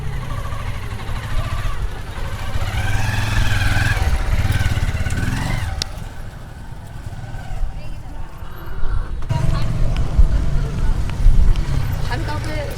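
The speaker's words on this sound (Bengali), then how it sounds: "আপনার গাড়িটা জাস্ট একটু চালাতে যাচ্ছিলাম" A modified motorcycle's engine rumbles nearby, running steadily and then surging in pitch as it revs, while people talk over it throughout.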